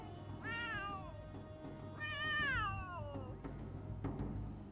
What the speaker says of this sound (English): Oh, I'm hearing other cats